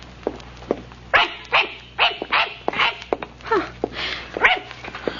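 A small brown dog barking in an old radio drama, a run of close, loud, sharp yaps and yips in an uneven rhythm, with no talking over it.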